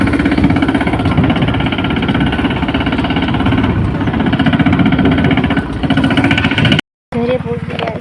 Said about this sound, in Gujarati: જો ટ્રેક્ટર અમારું આવ્યું હવે ટક ટક ટક ટક